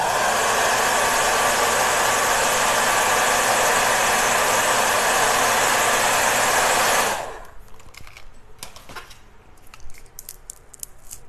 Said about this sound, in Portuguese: Deixa eu esquentar meu secador aqui para ver se eu consigo abrir essa goma laca.